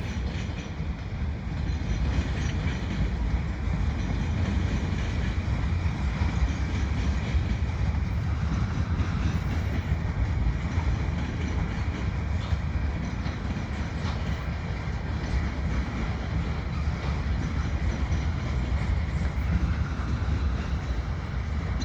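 A CN freight train rolls steadily past old factories beside a canal, its continuous rumble and clatter of wheels on rail filling the scene at close range without a break.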